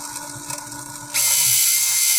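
A small robot's right motor spins a wheel, a steady high mechanical whir with a faint ratcheting gear texture that starts partway through and runs on loudly to the end.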